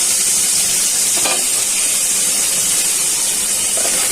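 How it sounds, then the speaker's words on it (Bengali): Onions frying in hot oil left over from frying rohu fish sizzle loudly and steadily up close, with faint stirring in the pan. "এখন ভালো করে পেঁয়াজটা ভাজা হয়ে যায়।"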